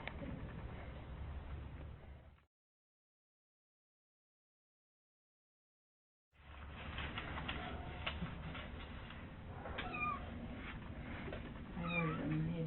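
A small kitten meows faintly in a few short calls near the end, over steady background noise, after a stretch of silence in the middle.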